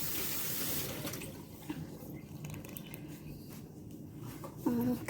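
Cold tap water runs into a pot of potatoes, a soft steady splashing and gurgling stream at close range, fairly quiet, with a brief clank near the end.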